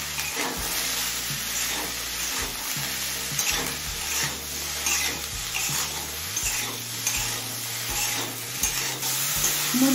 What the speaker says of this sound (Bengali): নুন লঙ্কা হলুদ দিয়ে আরো 5-6 মিনিট কষিয়ে নিয়েছি।